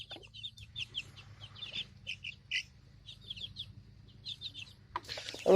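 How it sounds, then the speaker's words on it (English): Baby chickens cluck and peep in a mesh-screened outdoor box, a steady run of short chirping calls at close range with a faint low hum beneath and a louder rustle at the end. "So the little baby chickens can live outside now."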